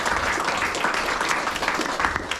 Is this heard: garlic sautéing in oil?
no